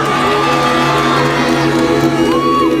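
A large crowd at a Christmas rally cheers and shouts loudly and continuously, voices blending into a dense roar with a few whoops rising above.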